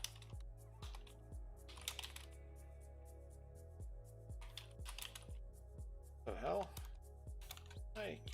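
Fast clicking keystrokes on a computer keyboard during coding, close and crisp in uneven bursts, with a held key rumbling in the middle and a voice briefly speaking near the end.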